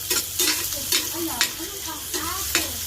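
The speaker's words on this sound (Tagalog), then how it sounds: "Halo-halo lang natin siya." Garlic and onion are stirred as they sauté in a pan. A spoon scrapes in repeated strokes about every half second over a soft, steady sizzle.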